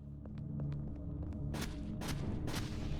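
Several loud gunshots from a shooter video game ring out in a burst of three sharp blasts over a low rumbling background.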